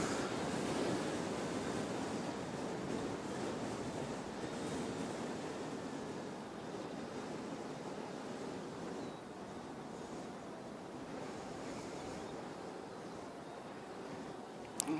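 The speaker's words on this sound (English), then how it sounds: "I can see the wind's making a lot of noise." Strong wind buffets an outdoor microphone at an airport, a steady, loud, broadband roar with gusty surges and no distinct voices.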